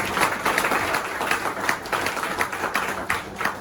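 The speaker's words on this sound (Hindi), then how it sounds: "इसके लिए पाटिल साहब के लिए एक बार जोरदार तालियां।" Clapping from a seminar audience in Mumbai, loud, steady and close, running the whole time with no one speaking over it.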